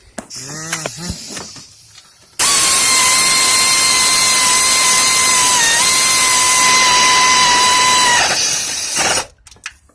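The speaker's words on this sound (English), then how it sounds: "I have my old trusty air ratchet here" Air ratchet tightening a water pump bolt on a 2006 Dodge Charger Daytona RT 5.7, a loud close pneumatic whine held for about six seconds with a slight dip in pitch, then cut off, after brief quieter handling sounds.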